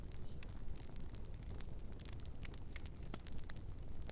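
Steady roar of a large crackling fire, a continuous low rumble with frequent sharp snaps and pops scattered across it, moderately quiet, no voices.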